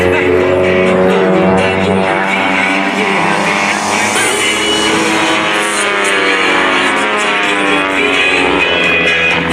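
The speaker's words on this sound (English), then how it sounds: "it gets fun as they roll the airplanes upright, and John Thocker gets to chase the smoke." Aerobatic airplanes roar loudly and continuously at an airshow as they roll upright, the strong engine drone shifting in pitch throughout without any break.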